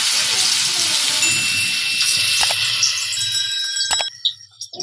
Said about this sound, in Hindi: अब इसमें हम अपने पकौड़े फ्राई कर लेते हैं।